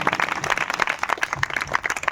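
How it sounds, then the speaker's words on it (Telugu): A church congregation in a village gathering claps in praise, a light, uneven patter of hands at moderate distance, steady and fairly quiet. "చప్పట్లు కొట్టి వారందరి సమర్పణకు ప్రభువును స్తుతించండి."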